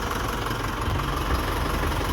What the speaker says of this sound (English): So that was an excessively long crank, and you can see the speeds were jumping around. Engine's running good.